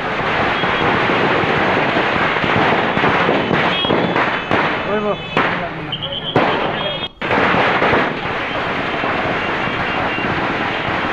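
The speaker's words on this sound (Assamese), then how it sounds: "হোজাইত আজি এইদৰে ফটকা ফুটাইছে আনন্দ কৰিছে হোজাইবাসীয়ে" Firecrackers bursting in celebration in Hojai, a dense run of sharp cracks and bangs over crowd noise, loud and continuous with a few louder pops.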